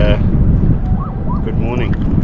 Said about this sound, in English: not the nicest out here so far with that wind